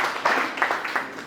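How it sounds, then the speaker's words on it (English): An event audience at Network of Champions claps in a short, soft burst of applause, a brief patter of hands with a few louder claps, fairly distant. "Let's give them a big round of applause."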